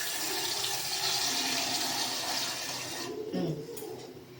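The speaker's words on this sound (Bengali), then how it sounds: "দাঁড়াও আগে একটু জল দিয়ে নিই" Water poured into a pan to make jaggery syrup: a steady splashing stream for about three seconds that stops abruptly, followed by a few faint clinks and a quieter tail.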